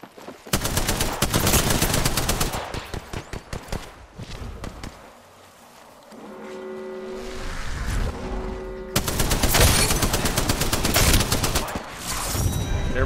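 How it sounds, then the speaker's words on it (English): Enemies firing guns in the Apex Legends video game, dense sustained automatic fire close by, dropping to a brief lull with tonal game sounds before another intense burst of shooting. "Enemies are shooting at me."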